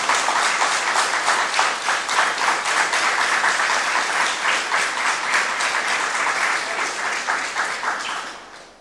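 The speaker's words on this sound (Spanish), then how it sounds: "¿qué le parece si le damos un aplauso y lo recibimos al doctor?" An audience at a doctor's talk gives sustained, even applause to welcome the speaker, dense clapping from many hands that holds steady for several seconds and then fades out, with no talk over it.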